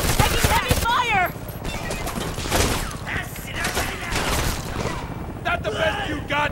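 Heavy gunfire in the video game Homefront, with dense bursts and impacts mixed under shouting voices and game chatter throughout.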